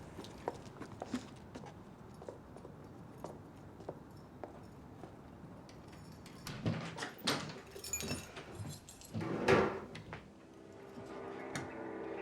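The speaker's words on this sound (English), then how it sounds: "Keys. Keys." Keys jangle in a TV crime drama scene, a few brief metallic clinks at a low level amid faint room noise and footsteps, with louder handling sounds near the end.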